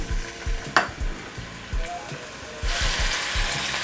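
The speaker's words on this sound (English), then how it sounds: "I'm going to saute this for a couple minutes." Onions and garlic sautéing in olive oil in a pan, with soft sizzling and rhythmic stirring scrapes repeating about twice a second, close and fairly quiet, and the sizzle swelling louder toward the end.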